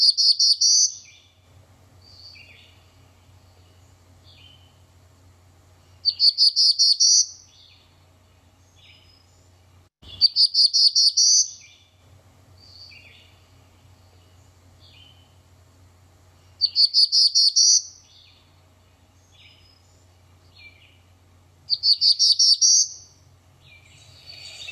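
In a forest habitat, a songbird repeats a short phrase ending in a buzzy note about every five seconds, five times in all, clear and moderately near over a low, steady background hum.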